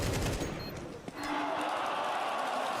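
Rifle fire in Counter-Strike 2 during a Shanghai Major match, a rapid burst of sharp shots in the first second followed by a steady bright wash of game noise, with a commentator talking over it.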